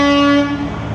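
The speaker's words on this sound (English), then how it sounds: "All right, horns are honking." A single loud, close car horn blast sounds at a Baja-to-mainland Mexico ferry crossing, a steady tone that starts sharply and then fades as vehicles prepare to roll off.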